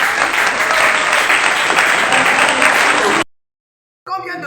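An audience at a prayer night applauds loudly in a dense, continuous burst of clapping that cuts off abruptly into silence before a brief sound returns.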